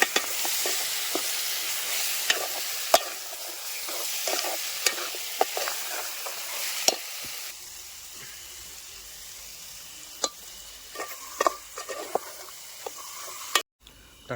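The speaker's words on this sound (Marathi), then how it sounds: "आता त्यात लगेच चिकन टाकते," Chicken pieces tossed into hot tempering in a pan at a forest campsite sizzle steadily while a spoon scrapes and stirs in irregular knocks, fairly close, the frying hiss easing slightly midway.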